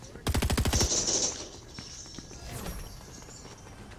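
A rapid burst of Fortnite burst-rifle gunfire in a video game, loud, clipped shots fired in quick succession. Quieter footsteps and game noise follow.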